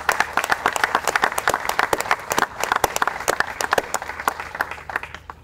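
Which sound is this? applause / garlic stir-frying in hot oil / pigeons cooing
applause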